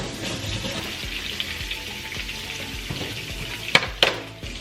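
Salmon frying in a pan at home, a continuous close sizzle with soft crackles and two sharp utensil clinks near the end; no talking.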